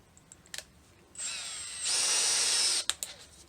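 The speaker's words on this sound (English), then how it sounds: "now I'm going to drill and tap this hole in plastic" A power drill whines steadily, then bites into plastic with a harsher buzzing tone for about a second before stopping, close up.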